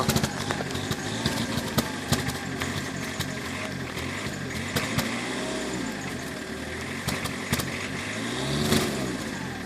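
Cold diesel engine of a BMW E36 318 tds revving up and down at close range, a steady rough idle with repeated throttle blips and rising surges, and a brief voice in the background.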